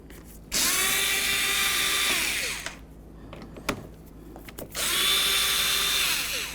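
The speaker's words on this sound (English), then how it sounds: "we're going to loosen up these latch bolts here and remove them" A power drill loosens the T27 Torx latch bolts on a 2008–2012 Jeep Liberty door, whining in two close bursts of about two seconds each, with small clicks and clatter in the pause between them.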